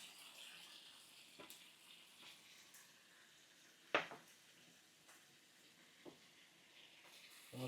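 Carrots, bell pepper and zucchini fry in a pan with a soft, steady sizzle, broken by occasional sharp clacks of a utensil stirring. Quiet and close, with no talk.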